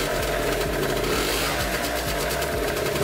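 Scooter engine running steadily and loud, revved slightly above its 1600 RPM idle, giving a continuous buzzing drone with a regular pulsing beat and no talking.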